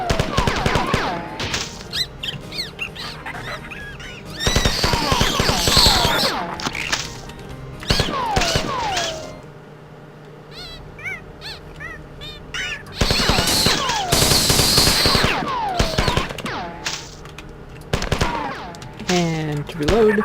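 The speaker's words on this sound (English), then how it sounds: "I liked my machine gun" Rapid machine gun bursts fire in the Marathon video game, loud clattering volleys in several long stretches, separated by quieter gaps with small game effects and squeaks.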